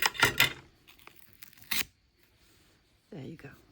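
Scissors cutting fabric tape: a few sharp snipping and tearing bursts close by, followed by quiet, then a short stretch of speech.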